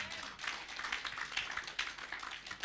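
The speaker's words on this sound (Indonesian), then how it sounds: "saudara berikan tepuk tangan bagi Tuhan" A church congregation claps their hands in praise during a sermon on the resurrection, with a crackling, steady patter of many hands at moderate distance.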